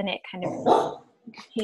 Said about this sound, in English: That's my dog barking right now